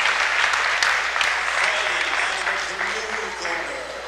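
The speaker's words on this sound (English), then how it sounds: "you can hear the crowd" A boxing event crowd roars and applauds steadily at a distance, a continuous wash of cheering and clapping that fades slightly toward the end.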